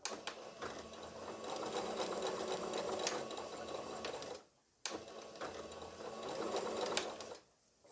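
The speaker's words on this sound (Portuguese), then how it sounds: "Só um pedacinho que a gente vai costurar aqui." A sewing machine stitches fabric in two steady bursts of rapid mechanical whirring, each about four seconds and close by, separated by a short pause, then stops again.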